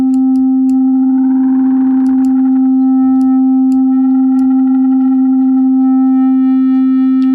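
A sustained synth keyboard tone played through a UAD Galaxy Tape Echo delay and reverb plugin, with a swelling, warbling echo wash building and fading over the steady loud note, alone without talk.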